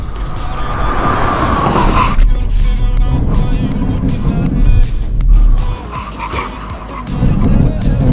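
A car making a full emergency stop from 70 in a brake test, with tires skidding and squealing for several seconds, loud and close, amid rumbling road noise.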